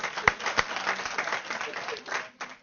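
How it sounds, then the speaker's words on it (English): An audience applauds speakers at an evening event marking 150 years since the Emancipation Proclamation. The clapping is fairly faint and somewhat distant, with a few sharper claps near the start and voices mixed in. "Would you give them a round of applause, please?"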